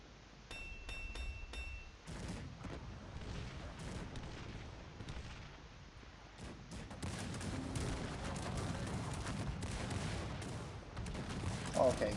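Gunfire and artillery fire crackle and thump in Cossacks 3, a real-time strategy battle, with scattered volleys building into denser, louder fusillades and booms over about twelve seconds.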